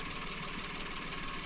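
Small engine, refitted with a new air cleaner, running steadily at idle with a dense, even whir and slight vibration, close and continuous with no talk.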